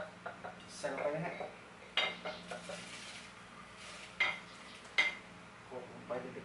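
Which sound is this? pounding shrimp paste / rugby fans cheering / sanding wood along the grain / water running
pounding shrimp paste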